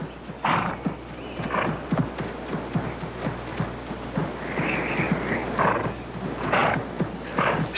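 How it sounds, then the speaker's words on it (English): A horse rears in a sudden commotion and throws its rider while trackers search the wilderness for a hairy, man-like creature. Hooves clop and thud steadily, with a few sharp whinnies breaking through near and loud. "Patterson's horse reared, throwing him."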